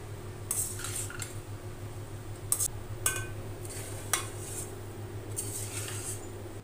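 Spoon stirring peanuts in a hot kadhai while making vermicelli upma, a few light metallic scrapes and clinks over a steady low hum, close by and without speech.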